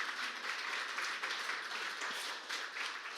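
Church congregation applauding during a Spanish-language sermon, a steady, even wash of many hands clapping throughout, moderately distant with no talk over it.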